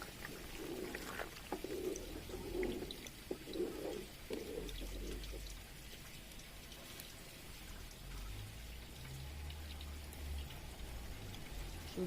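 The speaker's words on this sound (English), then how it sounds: "And now I'm going to add my tomato, pepper, onions that I blended earlier" Blended tomato, pepper and onion mix pours into a chicken stew pot, giving a wet, splattering pour with sizzling patter over a steady background, the blobs landing in a rhythm early on before settling into a low continuous bubbling.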